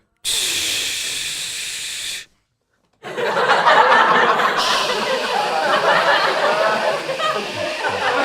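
A voice imitates a boiling kettle with a long steady hissing breath, pauses, then makes a second rougher, louder hiss that builds and continues, with laughter mixed in.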